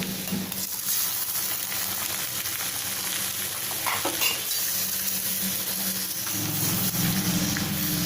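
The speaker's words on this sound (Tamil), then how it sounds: "இப்போ இதில் முட்டையை உடச்சி ஊற்றிக்கலாம்" Broad beans and cracked egg sizzling and frying in a pan, a steady broadband crackle with occasional utensil scrapes and stirring, close and fairly loud throughout, no talking.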